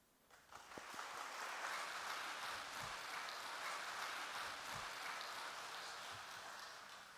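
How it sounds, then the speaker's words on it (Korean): A church congregation at a Sunday afternoon worship service gives loud, sustained applause, a dense wash of clapping that rises quickly and holds steady for several seconds. "전도사님 나오실 때 큰 박수로 환영하겠습니다"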